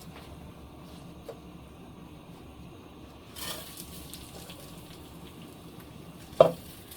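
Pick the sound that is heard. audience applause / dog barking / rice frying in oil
rice frying in oil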